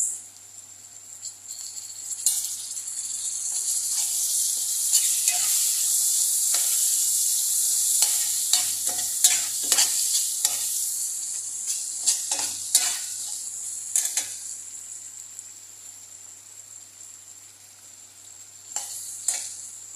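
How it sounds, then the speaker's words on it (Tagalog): Shrimp and tomato sizzle steadily in a frying pan, a loud continuous hiss broken by repeated scraping strokes of a spoon or spatula stirring the pan, close up with no talk. "So, ngayon, lalagay na po natin itong kamatis."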